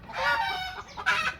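China partridge hen calls nearby in two quick, bright, harmonically rich bursts, the second sharper, with no other sounds around them.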